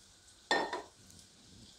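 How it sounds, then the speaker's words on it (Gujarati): Oil drizzled into a hot pan for raw banana paratha gives one short close burst of sizzling hiss that fades within half a second. "હવે થોડુંક આપણે એમાં તેલ નાખશું"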